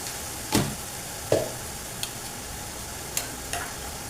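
Tomato paste, salt, Kashmiri chilli and ginger paste being sautéed in a pan: a quiet steady sizzle with a few sharp spoon knocks and scrapes against the pan, spaced irregularly.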